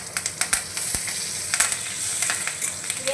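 Whole cumin, black mustard seeds, dried chillies and curry leaves sizzle in hot oil for a tadka, giving a steady, close frying hiss broken by sharp little pops and crackles, with no talking.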